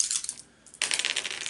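Action dice for Warhammer Quest Silver Tower tumbling onto a hard surface, a quick rattling burst, a brief pause, then a longer clattering run of dice settling, close and otherwise quiet.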